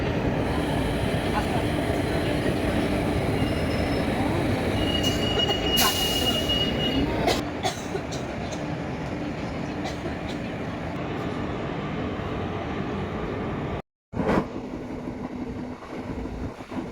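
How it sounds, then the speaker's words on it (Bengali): An express train runs steadily at speed, with a continuous loud rumble of wheels on rail, brief squeal and a short gap near the end as a goods train passes alongside on the adjacent track. "ওপাশে একটা মালগাড়ি।"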